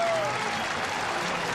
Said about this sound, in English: A round of applause for the veteran right-hander.